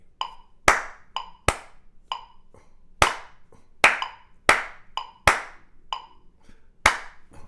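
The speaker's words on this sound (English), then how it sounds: "a downbeat Charleston on 1, followed by the next bar or downbeat on 2" Hand claps beating out a looped downbeat Charleston rhythm in a jazz timing lesson: a dozen or so crisp, close claps in a repeating syncopated pattern, with no voices.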